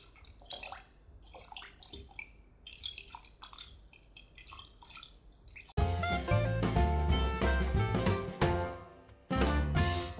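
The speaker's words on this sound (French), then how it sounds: "Utiliser l'eau dans un récipient." Foley water sloshed in a container makes splashes and drips at first, then turns into dense, loud continuous sloshing and pouring in the second half, briefly pausing near the end.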